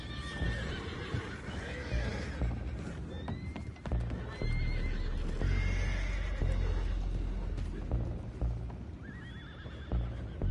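Horses neigh and whinny repeatedly over clip-clopping hooves and a low rumbling soundtrack in Red Dead Redemption, several loud whinnies rising and falling.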